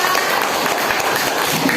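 A classroom of students applauds after a group presentation, dense rapid clapping throughout, loud and close.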